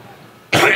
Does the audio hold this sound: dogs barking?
no